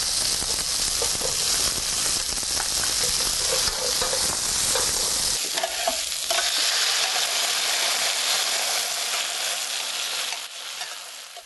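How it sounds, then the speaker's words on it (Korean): Vegetables and cucumber stir-fried in a hot pan, with loud, continuous sizzling and the scrape of stirring close up. Partway through it shifts to a brighter, hissier fry as more goes in. No voices. "거기다 이제 오이를 같이 넣고 볶을 거예요"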